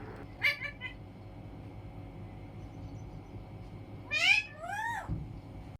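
A pet parrot imitates a cat's meow indoors, giving a short meow-like call early on and then two louder, drawn-out meows near the end, close by.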